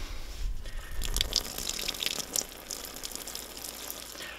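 Bush shower nozzle spraying water outdoors in the Simpson Desert, a close hissing gush that is strongest at first with a few bright drips and splashes, then eases into a softer, steady trickle.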